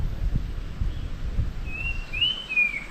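After a stretch of low background rumble, one clear whistling bird call sounds, a short sliding phrase near the end.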